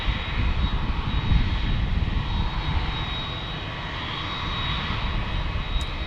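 An American Airlines jet arriving from DFW into San Diego roars steadily overhead, loud and continuous with a broad rumbling engine noise and no pauses.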